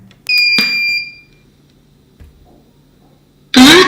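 A Bluetooth speaker module running on AC power beeps as it is switched on: a bright electronic beep with ringing overtones, then a quiet gap, then a short rising tone at the end.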